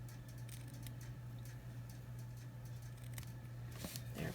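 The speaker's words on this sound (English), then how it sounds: "So I'm going to get out my scissors here. We're just going to cut that at a little bit of an angle." Scissors cut ribbon at an angle for a card-making project, giving faint, close snips over a steady low hum, with a slightly louder cut near the end.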